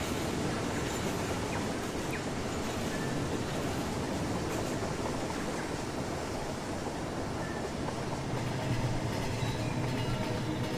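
Model train running on a layout in the Rolling Line video game, a continuous rumbling rail noise with faint clickety-clack, steady and moderately loud with no voices.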